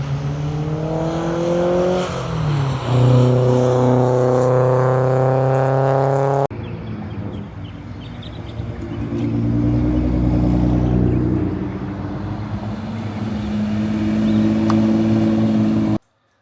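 An S13 coupe pulls away from a car meet, its engine revving loudly and climbing in pitch, then dropping back before building again as it drives off; the sound stays close and continuous until it cuts off abruptly.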